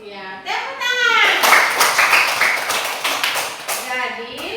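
A classroom of children claps hands together in a lesson on Surah Ad-Duha, a dense burst of clapping lasting a few seconds with a teacher's voice before and after.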